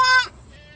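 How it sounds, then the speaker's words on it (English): A goat bleats once, a short loud wavering cry that cuts off, followed by quieter background noise. "I think this goat wants to be licked by Sutton Foster as well."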